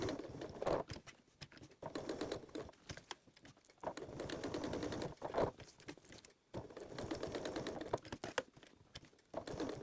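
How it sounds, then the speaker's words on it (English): A sewing machine stitching a strip of Velcro onto a fabric side panel, running in short bursts of rapid mechanical chatter separated by brief pauses, close and clear, with no talking. "last step is to sew your other piece of Velcro on"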